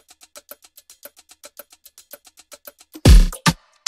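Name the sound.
shakers chopped from a drum loop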